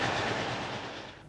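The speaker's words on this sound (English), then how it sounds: "25154 is seen heading north with a lengthy mixed freight" A lengthy mixed freight train hauled by class 25 locomotive 25154 rumbles past heading north, a steady broadband roar with faint wheel clatter that eases slightly toward the end.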